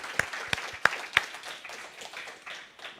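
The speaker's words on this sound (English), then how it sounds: "Perhaps a warm round of applause for a fantastic finish." Sparse applause in a room after a talk at a forum on democracy and social media, a handful of distinct sharp claps at first, then softer scattered clapping fading out.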